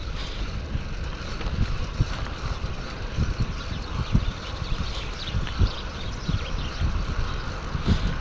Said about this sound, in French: Et il y a un petit peu de vent.